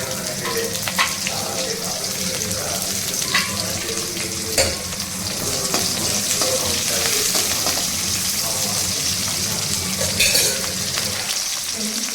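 Crushed garlic frying in hot oil in a pan, a steady close sizzle that continues throughout with a few clinks and stirring noises over it.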